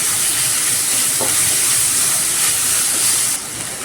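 Tomato sautéing in a pan with ginger and garlic for a ridge gourd and peanut gravy gives a steady, loud broadband sizzle and hiss that holds evenly throughout, dropping slightly at the very end, with no talk.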